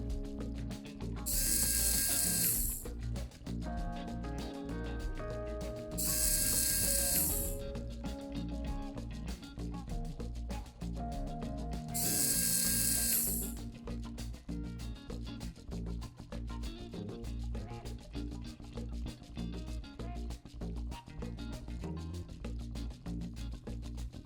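Ratchet clicking as screws come out of the side of a National Instruments PXI-1045 chassis, three loud bursts of fast ratcheting separated by a steady background hum, alone without voices.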